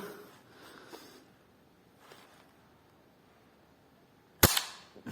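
A sharp, sudden gunshot from a gun fitted with a 3D-printed magazine bursts out after several seconds of quiet background noise, with a smaller bang trailing just after.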